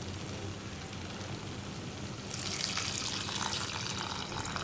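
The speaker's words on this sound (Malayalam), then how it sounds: "ഇനി ഇതിലേക്ക് നമ്മൾ ചൂടുവെള്ളമാണ് ഒഴിക്കാൻ പോകുന്നത്" Hot water pours into a pan of chilli tapioca curry, a soft splashing gush that starts partway through over a faint kitchen background, with no one speaking.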